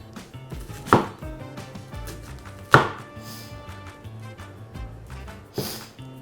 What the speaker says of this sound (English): You're just gonna cut it one way, and then you flip it and you cut it the other way.